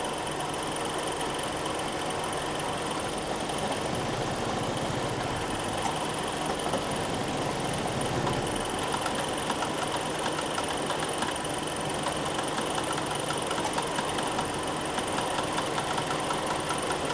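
A Jeep engine idles steadily up close, a continuous rough mechanical rumble with a faint knocking texture that holds evenly throughout, no voices over it.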